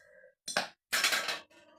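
A handful of plastic D&D dice clinking and rattling as they are handled, two short bursts of clatter separated by a pause, close and fairly loud, with no talk.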